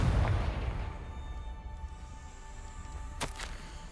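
A blasting spell is cast in the Hogwarts Legacy game, with a heavy booming impact up front and a sharp crack near the end, fading into a quiet rumble; no talking.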